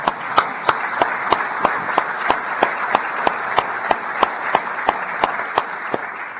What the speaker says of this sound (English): That applause was prompted